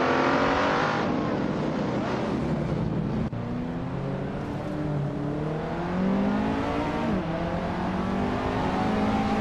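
A 2000 Pontiac Firebird Trans Am race car engine in a video game race drones loudly and continuously, its pitch sweeping up and down through gear changes as it revs, with no talk over it.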